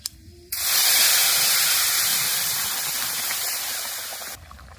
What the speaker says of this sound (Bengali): এবার শাক তরকারি ফোড়নের উপর দিয়ে দেব